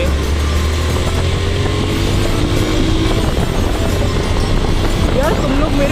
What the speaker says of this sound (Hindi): मेरे बाइक की इंजन की आवाज़